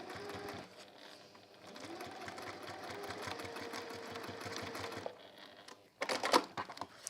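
A domestic sewing machine runs in steady rapid bursts while stitching over fabric seam lines, its needle chatter continuous and close for about five seconds, then stopping with a few clicks and handling noises.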